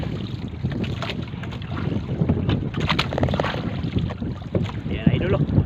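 Rough sea churns around a small fishing boat out squid fishing, a steady rushing wash of waves and wind buffeting the microphone, with no clear voices.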